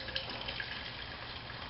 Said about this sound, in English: I'm going to go ahead and pour that back into my cup here